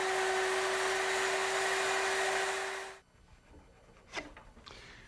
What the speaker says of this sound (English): take the stretchers back to the multi-router and set it up to cut a long mortise